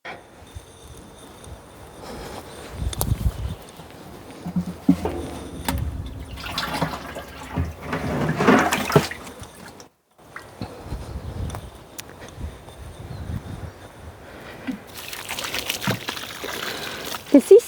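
Water is poured into a drying biochar mixture in a garden, a splashing, trickling flow that comes in surges and pauses, with a voice talking over parts of it.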